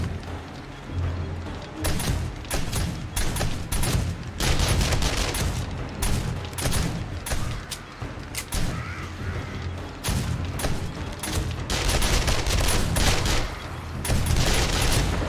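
Automated turrets in the zombie survival game 7 Days to Die fire in loud, rapid bursts, dense overlapping volleys of gunshots with short gaps, continuing throughout without voices.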